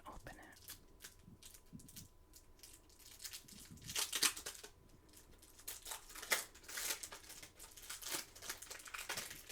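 Plastic wrapping crinkling and tearing as a Magic: The Gathering Commander deck is unwrapped, close and quiet, with a string of irregular crackles and rustles that grow louder and denser toward the middle.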